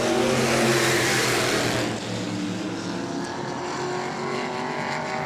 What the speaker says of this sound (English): Kurt Hatton way up in front of the second place car